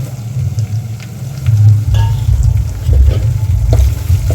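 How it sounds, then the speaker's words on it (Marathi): Dry spices (chili powder, salt, turmeric, goda masala, cumin and coriander powder) sautéing in a pan for masale bhat: steady close sizzling and frying with occasional stirring scrapes. "यालाही दोन मिनटं परतून घ्यायचं"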